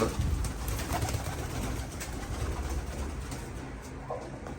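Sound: pigeons cooing in a coop

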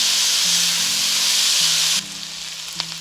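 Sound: stir-frying mixed fried rice on high heat

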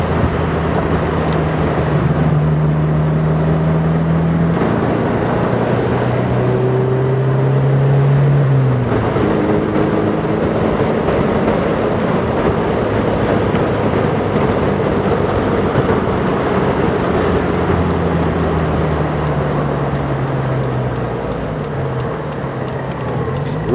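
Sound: 1996 Morgan 4/4 1800 car driving with wind noise

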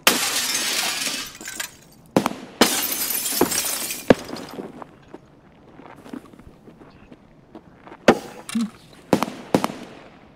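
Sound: gunshots in the video game Escape From Tarkov

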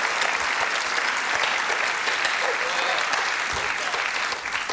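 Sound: studio audience applause for Tim Key

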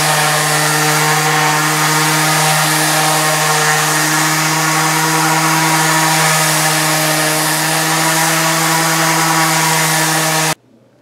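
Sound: power sander sanding down wood for a fish tank stand

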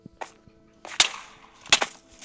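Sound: TNT exploding in a video game

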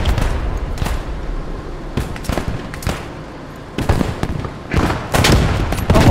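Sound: gunfire and explosion in a WW2 shooter video game

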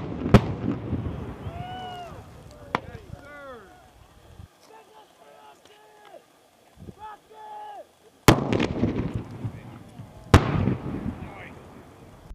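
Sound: explosion from live-fire training hit

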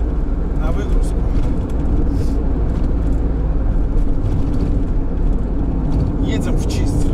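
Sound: truck driving off to unload

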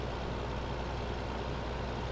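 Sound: tractor driving on Courseplay course, Farming Simulator 15 video game

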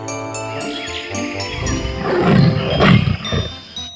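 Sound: tiger roaring

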